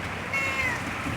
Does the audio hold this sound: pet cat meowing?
yes